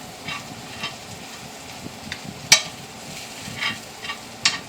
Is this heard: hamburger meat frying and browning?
yes